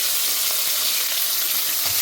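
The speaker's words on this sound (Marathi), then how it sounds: "नंतर कढीपत्ता घातला आहे" Curry leaves sizzle hard in two tablespoons of hot oil tempered with mustard seeds and asafoetida, a loud, steady, close crackling hiss with no voices.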